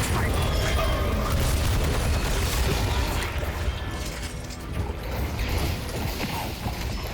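Heavy bomb explosions in the Deadlock video game, deep booming blasts with crashing debris piling up in a loud, chaotic burst that eases slightly midway, mixed with game chatter.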